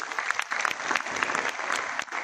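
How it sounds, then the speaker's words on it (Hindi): An audience at a business leaders' event claps for DK Sarang. The applause is close, dense and steady, with individual sharp claps standing out throughout the crowd sound. "एक ताली उनकी।"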